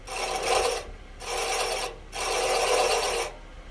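Wood being turned on a lathe with a spindle roughing gouge to shape a calligraphy dip pen: three long, steady rasping cuts separated by brief pauses, close and fairly loud, with no talking.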